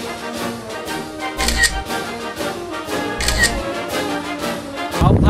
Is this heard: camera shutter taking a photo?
yes